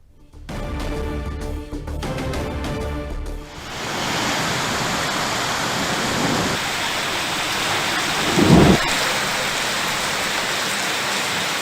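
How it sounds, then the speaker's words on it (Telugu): Heavy downpour in Vijayawada roars as a dense, steady wash of rain, with a deep thunder rumble breaking through partway; a few seconds of music come before the rain. "విజయవాడలో కుంభవృష్టిగా వర్షం కురిసింది."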